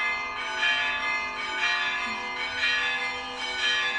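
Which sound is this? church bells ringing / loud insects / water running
church bells ringing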